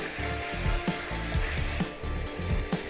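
Slit green chillies frying in hot oil for a catering-style dal makhani, a steady crackling sizzle with repeated low scraping knocks of a spoon or ladle stirring the pan.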